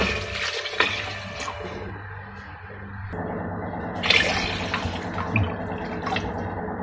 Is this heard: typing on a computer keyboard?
no